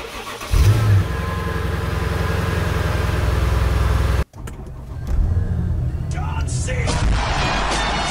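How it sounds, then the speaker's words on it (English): Cold start of a Chickenhawk V8 car engine fitted with a loud muffler-shop exhaust: the starter catches and the engine roars into a loud, steady high idle, briefly dips, then settles into a rumbling idle with minor revs. "We'll do a cold start right now"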